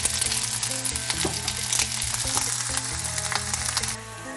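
Onions saute in olive oil and avocado oil for liver and onions, producing a continuous sizzling hiss with faint stirring clicks, set against background music.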